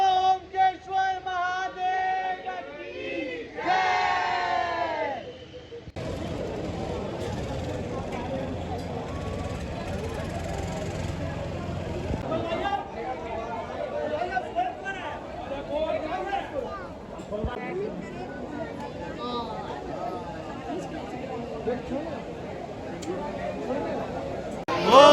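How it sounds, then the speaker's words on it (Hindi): Dense crowd of devotees packed into Omkareshwar temple, a steady babble of many voices and shuffling that goes on throughout, with someone speaking near the start. "श्रद्धालुओं की बहुत भीड़ है और पैर रखने की भी जगह नहीं है"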